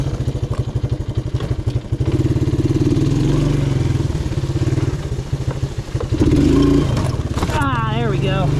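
A 1984 Suzuki LT185 ATV engine runs loud and close with a steady, throbbing exhaust note, then revs sharply higher as the rider pops a wheelie.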